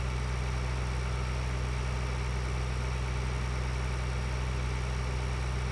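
A tractor engine in Farming Simulator 2013 drones at a steady, unbroken pitch, a loud continuous hum with no variation and no voices.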